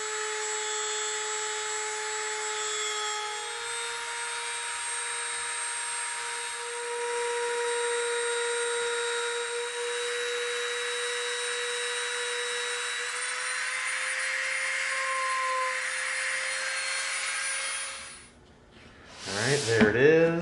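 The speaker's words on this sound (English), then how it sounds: "We're gonna start Dremeling our trench out." A Dremel rotary tool carves a trench in foam with a steady high whine that holds for most of the time, then cuts off near the end.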